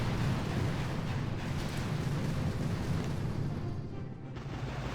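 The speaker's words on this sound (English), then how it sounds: "what I will do though is just barrage these mines away" In Boom Beach, an artillery barrage pounds a minefield, a dense, continuous roar of rumbling blasts and pops that stays loud throughout.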